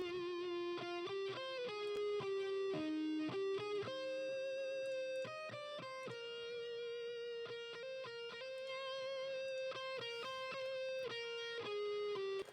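A heavily distorted electric lead guitar plays a continuous melodic line of sustained and quickly picked notes, loud and saturated, with no voices.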